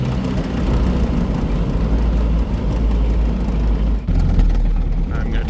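A Smart car fitted with snow tracks drives through snow, its loud engine droning steadily close by with low rumble, then shifts into second gear around four seconds in, followed by a continuing grinding engine note.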